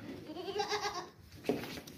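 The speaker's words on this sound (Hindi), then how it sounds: "बहुत ही प्यारा सा बकरा है माशाल्लाह से, बीतल नस्ल का बकरा है" A Beetal breed goat bleats twice, a drawn-out wavering cry followed by a short sharp bleat, close and fairly loud with no talk over it.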